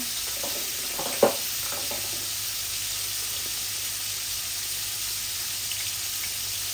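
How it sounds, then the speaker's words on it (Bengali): Rohu fish head pieces fry in oil, giving a soft, steady sizzle from start to end, with one sharp clink of a utensil early on. "মাছগুলা ভাজা ভাজা হোক"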